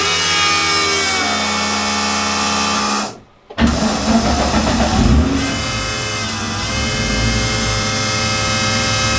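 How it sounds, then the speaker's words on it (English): A Nissan 350Z twin turbo sits with its fuel pumps running, a loud, steady mechanical whine and hum that holds throughout, broken by one brief dropout near the middle before resuming just as strongly. "I want you to see just how loud the fuel pumps are."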